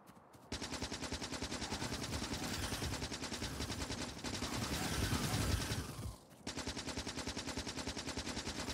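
A machine gun fires in the Factorio video game, dense rapid bursts of synthetic gunfire clattering almost continuously, briefly pausing twice, loud and alone with no talk.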